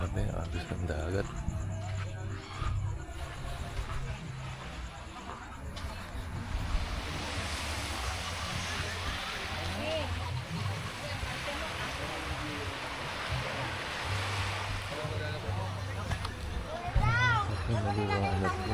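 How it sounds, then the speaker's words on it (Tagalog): Sea waves and current wash onto a white beach in Dasol, Pangasinan at night, a continuous rushing surf with wind noise on the microphone and people talking over it. "Grabe, agos ng dagat."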